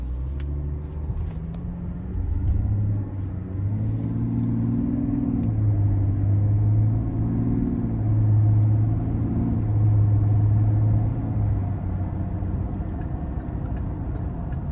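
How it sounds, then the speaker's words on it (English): A 2022 GMC Sierra 1500 Limited SLT pickup with the 3.0-liter Duramax diesel and 10-speed gearbox drives on the road, its engine giving a steady, continuous low rumble that rises and eases gently, heard from inside the cab without talk. "take this 2022 GMC Sierra 1500 Limited SLT with the Duramax diesel out on the road for a quick test drive"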